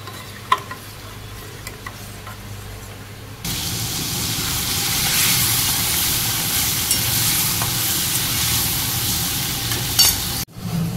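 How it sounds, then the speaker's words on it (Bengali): Prawns frying in a hot pan after ginger and garlic, with a broad steady sizzle and scraping stir sounds that start abruptly a few seconds in and continue loudly, preceded by quieter kitchen clatter. "চিংড়িটা আমার ভালো করে ভাজা হোক,"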